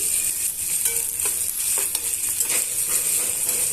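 Steady hiss and sizzle of ivy gourd frying with ginger garlic paste in a hot pan, with occasional scraping and stirring clicks, close up and continuous.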